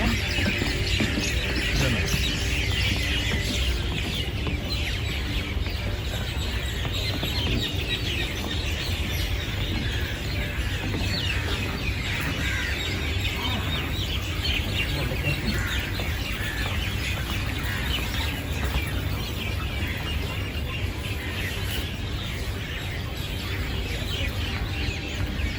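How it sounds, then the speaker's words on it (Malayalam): Birds calling on Al Noor Island in Sharjah, a steady chorus of chirps and clucking calls over constant ambient noise, continuous and moderately distant throughout. "കിളികളുടെ ശബ്ദം."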